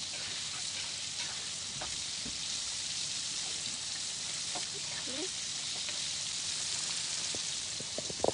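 Batter-coated squid fries in hot oil, a steady dense sizzle and crackle filling the whole stretch with scattered pops, close by, while a voice talks faintly underneath.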